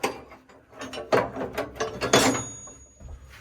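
A big box of BSF spanners, found in an Alvis Saracen armoured car, is shifted and handled: close metallic clinks and rattles in irregular bursts, rising and falling, with no talking.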